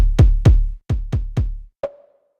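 A kick drum sample in music production software: five punchy, booming electronic kick hits in an uneven rhythm, then a single shorter tonal hit with a ringing tail, clean and alone.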